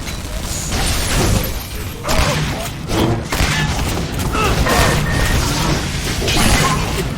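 Dense, continuous shooting and booming explosions in the Shadow Warrior 2 video game, loud and sustained with heavy impacts, some faint voice beneath.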